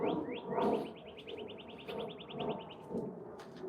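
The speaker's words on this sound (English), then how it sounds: "Like that cardinal is making lots of sounds." A cardinal calls nearby in a rapid run of bright, repeated chirps, a steady string of quick descending notes following a few opening whistles, with faint background noise and no talking.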